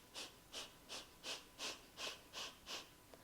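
Eight quick, evenly spaced exhales push out in a steady rapid rhythm during a breathwork exercise, each one a soft, breathy rush of air heard close up against a quiet background.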